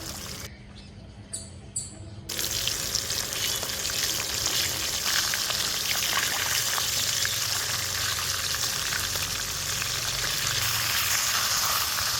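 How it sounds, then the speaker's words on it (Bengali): Koi fish fry in a pan, beginning quietly with faint clinks before a sudden loud burst of sizzling that then holds as a steady, dense crackle close by, without voices. "তিন থেকে চার মিনিট এটাকে ভালো করে ভেজে নিচ্ছি তারপর একটি একটি করে মাছ উল্টে দিচ্ছি"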